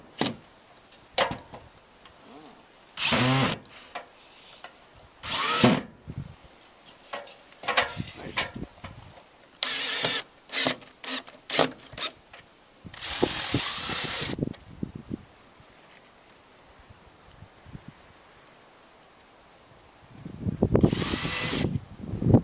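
Power drill driving screws into a solar panel mount, heard as several short whirring bursts and one longer run, with clicks and handling noises in between.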